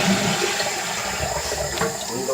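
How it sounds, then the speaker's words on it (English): A household toilet with a metal supply line flushes loudly and close, a sustained rushing swirl of water draining and refilling the bowl for a couple of seconds, with no talking. "Flush the toilet, make sure it's working."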